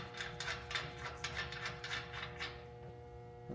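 A bolt being threaded in with a 6mm round-headed Allen key while assembling a bed rack kit, giving a steady run of small ratcheting metal clicks close up, with no talk.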